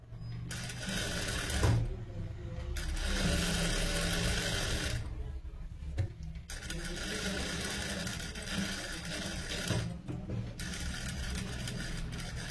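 A sewing machine stitches the neckline of a princess-cut garment in several close bursts of rapid mechanical chatter, broken by short pauses between runs.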